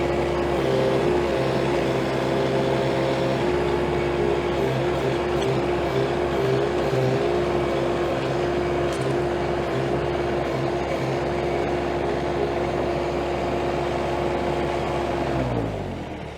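A Toro Dingo TX1000 compact skid steer engine holds a loud, steady high rev with a strong droning hum up close, then winds down near the end.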